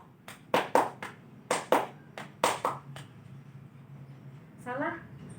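Fourth-grade pupils perform a rhythmic classroom clapping game, tepuk kecerdasan: sharp grouped hand claps in a patterned sequence, then a pause with a brief voice near the end.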